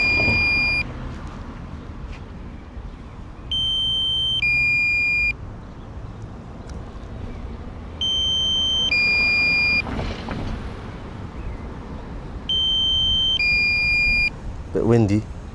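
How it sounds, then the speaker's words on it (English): A camera drone landing in Loughton, Essex gives repeated bursts of steady, high electronic beeping, several spaced groups of sustained tones over windy outdoor background noise, with a brief clatter at the end. "Here we go, beeping started."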